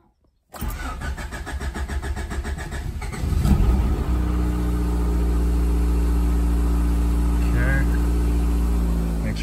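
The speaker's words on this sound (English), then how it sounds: "now we're going to go into the car and start it" A Honda car engine with a distributor cranks with a rapid starter chatter, catches and revs up, then settles into a steady, rumbling idle close by.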